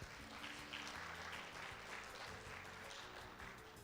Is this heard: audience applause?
yes